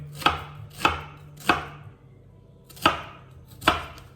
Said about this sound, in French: Et je vais commencer par tailler les oignons.